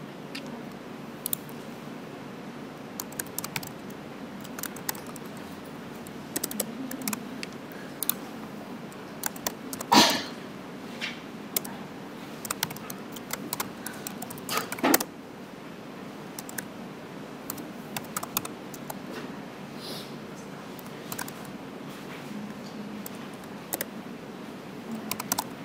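Keys on a computer keyboard being typed in irregular bursts of soft clicks, with occasional louder taps, at close range and without any voices.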